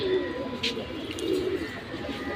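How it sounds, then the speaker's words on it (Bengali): Silver pigeons coo softly in a loft, low rolling calls continuing through the moment alongside a few faint higher chirps in the background. "কবুতর এখানে মাসাল্লাহ অনেক ভালো ভালো কবুতর বেশিরভাগ কবুতরই সিলভার হবে"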